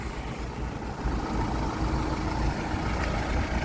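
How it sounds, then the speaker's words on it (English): Parked vehicle sitting with its engine idling, giving a constant low rumble with broadband noise, steady and fairly close, with no talking. "This guy sat with engine idling, having a snooze."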